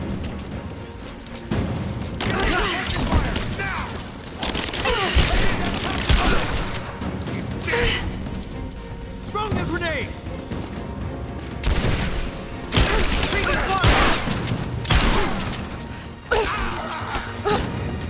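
Rapid bursts of gunfire in a firefight from the video game Rise of the Tomb Raider, repeated volleys and crashes across the whole stretch, loud and dense, with shouted voices mixed in.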